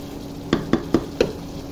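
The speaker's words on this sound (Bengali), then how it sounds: "বুট আর মাংস একসাথে কষানো শেষ" Chickpeas and meat being stir-fried together for kosha in a pan give four evenly spaced scraping strokes over a soft background sizzle.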